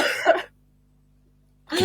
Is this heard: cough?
yes